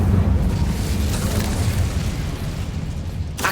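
Incendio fire spell in Hogwarts Legacy: a sustained, loud roaring blast of flame with rumbling low body that holds steady for a few seconds before a brief sharp crackle at the end, no talking.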